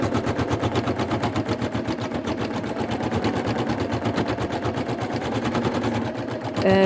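An embroidery machine stitches an in-the-hoop zipper bag, its needle hammering in a fast, steady rhythm that stays loud and close from start to finish, with no voices over it.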